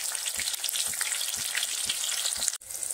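Garlic and a large ripe tomato fry in a pan for a crab curry, giving a steady close sizzle with soft periodic stirring thumps and a brief break near the end.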